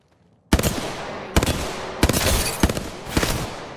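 Video game gunfire in bursts: four loud clusters of rapid shots in quick succession, close and harsh, with brief gaps between volleys and no talking.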